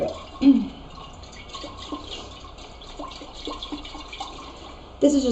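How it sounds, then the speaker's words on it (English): A spoon stirs a sugar mixture into water in a jar for water kefir, making soft rhythmic scrapes and swirls with a couple of louder clinks near the start and end. "Then we're going to stir it."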